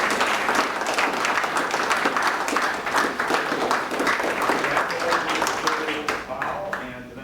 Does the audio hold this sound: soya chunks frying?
no